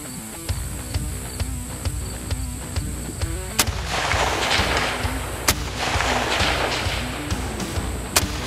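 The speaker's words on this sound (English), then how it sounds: "I'm shooting an awesome USA Tactical Firearms chambered for .223" A rifle chambered in .223 fires several sharp shots at irregular intervals outdoors, loud and close, over a constant background of insect buzzing.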